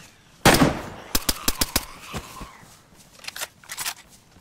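Gunfire in the video game DayZ, one heavy shot followed by a quick burst of several sharp cracks, then a few scattered, fainter shots trailing off; no talking.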